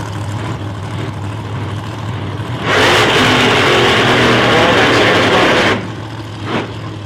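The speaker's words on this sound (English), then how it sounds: "gets himself a burn on the tyres." A nostalgia race car at an Australian meet, running at a steady low idle and then revving hard for about three seconds in a loud tyre burnout before dropping back to idle, with a brief blip of the throttle after.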